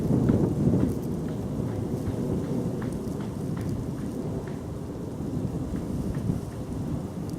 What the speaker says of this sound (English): Wind's picking up, as you may be able to hear.